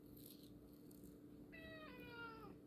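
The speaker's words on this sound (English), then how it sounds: "that's my cat. He wants some attention." A pet cat meows for attention, one drawn-out falling meow close by near the end, quiet against a low background hum.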